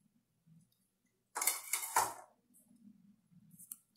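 Sugar and egg yolks tipped into a bowl for a Brazilian bolotone cake, heard as a short clattering, pouring burst in the middle of an otherwise quiet moment.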